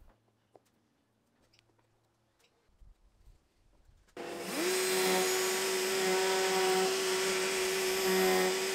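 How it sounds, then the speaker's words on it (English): A router table fitted with a template bit starts up after a quiet moment of small handling noises, then whines loudly and steadily as it shapes the inside bends of a timber stool part. "for the inside bends I'm using my template with a template bit at the router table"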